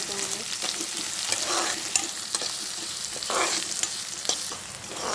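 Chopped onions fry in a pan for ridge gourd curry, a steady close sizzle with the scrape and clatter of stirring running throughout, and no voices.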